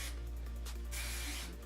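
A Garnier Fructis Frizz Guard Anti-Frizz Dry Spray aerosol hisses onto hair in two close bursts, a short one first, then a longer one, over a low steady hum.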